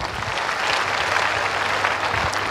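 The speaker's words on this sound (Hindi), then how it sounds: "मैं चाहूंगा सर की जोरदार ताली हो जाए।" An audience at a gathering in Lucknow gives loud, dense applause that stays steady and continuous throughout, with no break.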